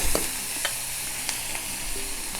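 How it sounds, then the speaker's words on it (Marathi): Chopped onions sizzle steadily in a hot pan for a Konkan-style dish, with a few soft scrapes of a spoon stirring them, close and continuous with no talking. "चांगला परतून घ्यायचा कांदा दोन मिनटं"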